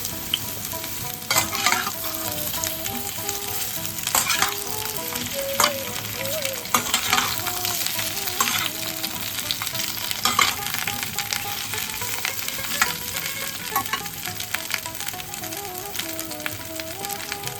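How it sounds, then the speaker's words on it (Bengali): Drumstick, plantain, potato, sweet potato and radish pieces frying in oil, a loud, continuous sizzle with repeated stirring scrapes throughout, no voices. "সবজিগুলোকে এবার আমি ঢাকা দিয়ে ভেজে নেব"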